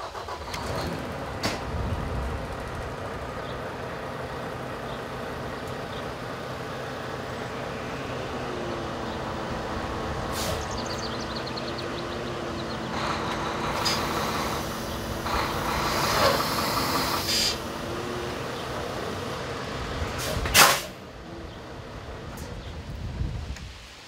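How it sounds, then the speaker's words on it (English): A 2015 Volvo truck pulls forward a little with a fifth wheel trailer hitched on. Its engine hums low and steady, then swells briefly and ends in a sharp clunk, with wind noise and no talk. "put the truck in gear, and try to pull forward just a little bit."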